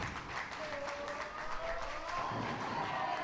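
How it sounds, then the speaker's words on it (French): A bowling crowd applauds at the close of a match at a professional team challenge event, steady moderate clapping that continues under a commentator's voice. "Et Vladimir qui va finir ce match aux applaudissements."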